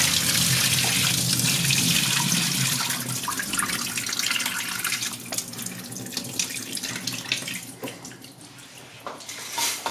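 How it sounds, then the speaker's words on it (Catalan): Tap water pours steadily into a container of peas set to soak, a loud, continuous splash that gradually softens and turns into lighter trickling. "Farem és posar-hi aigua."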